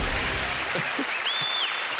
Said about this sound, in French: Mesdames et messieurs, un tonnerre d'applaudissements pour Tarek